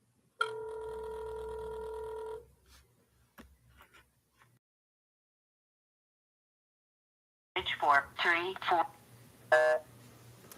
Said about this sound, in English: I'm going to call him on the phone.